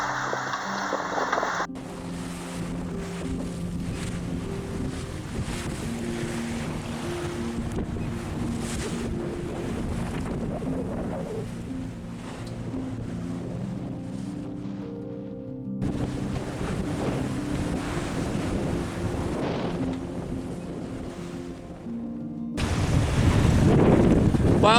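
Wind buffets the microphone over the rush of water and waves against a sailboat on a beam reach at sea, steady and loud throughout.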